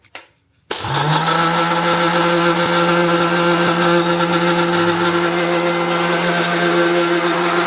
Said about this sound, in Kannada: ಇವಾಗ ಮಿಕ್ಸಿ ರುಬ್ಕೊಳ್ಳೋದು